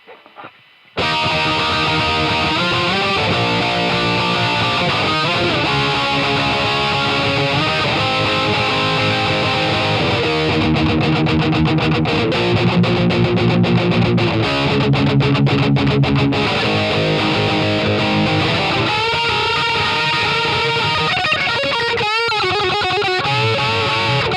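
Heavily distorted electric guitar through free amp simulator plugins plays a continuous riff with fuzzy, hissy saturation, broken by some choppy stuttering passages.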